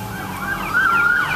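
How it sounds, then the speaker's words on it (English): An ambulance siren passing on a road outside, wailing loudly and continuously with rising and falling pitch over steady traffic noise. No voices are heard. "I think it's an ambulance."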